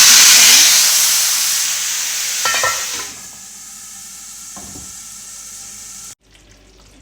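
Spices and turmeric crackle and sizzle loudly in hot oil as a tempering for kadhi pakora, the hiss gradually dying down, with a few clinks of a spoon stirring the pan.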